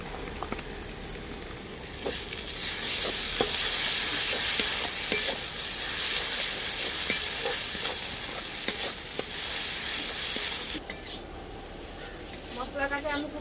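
Ground cumin, dried red chilli paste and turmeric are sautéed with fried onion and garlic in a pan for a chicken and kohlrabi curry, a loud continuous sizzle broken by regular spatula scrapes and taps, fading near the end.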